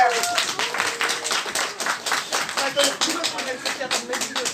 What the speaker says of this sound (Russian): Давайте под ваши бурные аплодисменты.